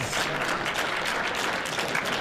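An audience applauds at a boxing event in Allentown, a dense, even wash of clapping that holds steady throughout, with faint voices underneath.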